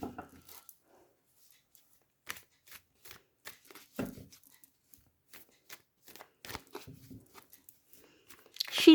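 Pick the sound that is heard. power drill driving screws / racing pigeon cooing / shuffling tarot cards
shuffling tarot cards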